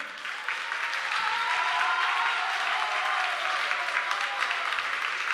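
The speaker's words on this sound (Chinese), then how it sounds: "给热烈掌声来！" Warm, even applause from a church congregation during a Sunday service, many hands clapping steadily for several seconds at moderate distance, building briefly at the start and holding without voices over it.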